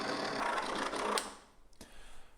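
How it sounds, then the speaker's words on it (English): An ice cream maker churning caramel apple ice cream gives a steady mechanical whir and rattle, then drops away near the end to quieter uneven knocks as the machine starts to stall back and forth. "the machine is starting to stall back and forth"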